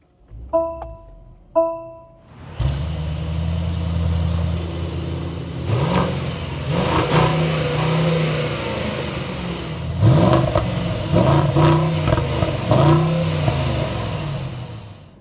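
A 2025 Mercedes-Benz GLS63 AMG gives a few electronic chimes, then its engine fires up loudly and settles into a deep idle. It rises in several throttle blips and revs before falling back, heard close with no talking.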